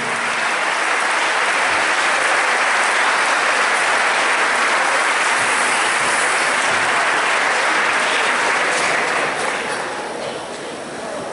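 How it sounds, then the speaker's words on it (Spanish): Sustained loud applause from a concert crowd at the National Guitar Festival, honoring a bass player; many hands clap in a dense steady roar that thins and softens near the end. "fuerte los aplausos para él también."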